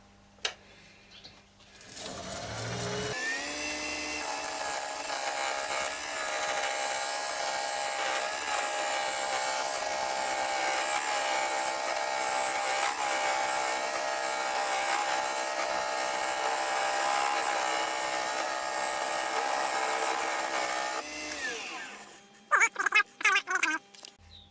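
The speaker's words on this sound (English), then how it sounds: "I'm just going to use a round nose scraper for this, nicely freshly sharpened." A wood lathe spins a maple platter as a freshly sharpened round nose scraper cuts it, a loud steady whirring hum with a scraping, tonal edge sustained for about twenty seconds, starting up and winding down with clatter at the end.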